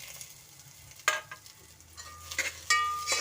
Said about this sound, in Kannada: ಇದನ್ನು ನೀಟಾಗಿ ಮೀಡಿಯಂ ಫ್ಲೇವರ್ಲಿ ಫ್ರೈ ಮಾಡ್ಕೊಳ್ಳೋಣ